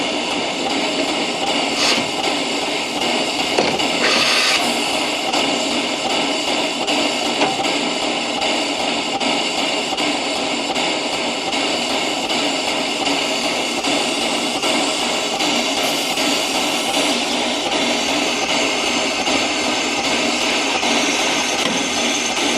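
Replica steam locomotive on the Corris Railway in Wales running nearby, a steady loud mechanical roar and hiss with faint higher squeals, continuous for over twenty seconds with no talk.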